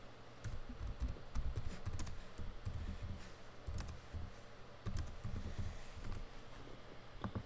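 Computer keyboard being typed on at a desk, a quiet, close run of uneven key clicks in short bursts with no talk.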